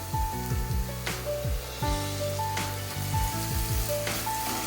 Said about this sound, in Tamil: நல்லா வதக்கிடுங்க